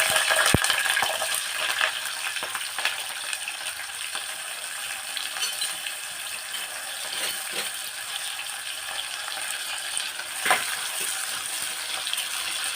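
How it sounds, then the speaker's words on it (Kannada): Onions frying in hot oil for mutton keema, a steady broadband sizzle with occasional stirring clinks, close and continuous throughout with no talk. "ಸೊ ಇವಾಗ ಇದಕ್ಕೆ ಈರುಳ್ಳಿ ಆ್ಯಡ್ ಮಾಡ್ಕೊತಾ ಇದ್ದೀನಿ."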